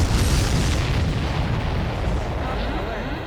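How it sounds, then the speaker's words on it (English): A huge explosion in the Ace Combat 7 flight game, a supply ship blown apart, rumbles as a loud, sustained roar of blast and debris that slowly fades, with voices talking over it. "Did you see that explosion?"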